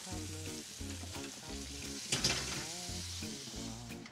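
A flipped piece of meat sizzles steadily in a hot pan headed for the oven, a continuous close frying hiss under light background music, with a brief louder clatter midway.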